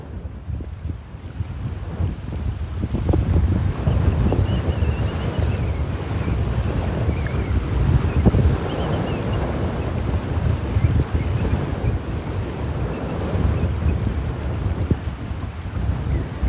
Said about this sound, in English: I wish it wasn't so windy